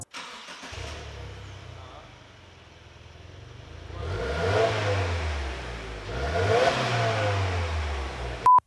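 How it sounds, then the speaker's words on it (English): A 2022 Subaru WRX on its stock exhaust starts and idles, then revs twice in rising, falling sweeps, close and fairly loud with a muffled tone, ending with a short beep. "they may make fun of you if your exhaust sounds like this"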